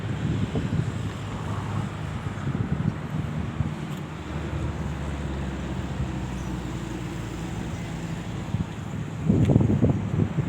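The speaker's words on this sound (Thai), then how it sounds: "ตอนเย็นเย็นลมจะแรงมาก" Strong evening wind buffets the microphone on a seaside road built out into the sea, a loud continuous roar with low rumbling gusts and a stronger burst near the end, no voices.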